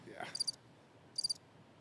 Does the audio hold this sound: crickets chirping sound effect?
yes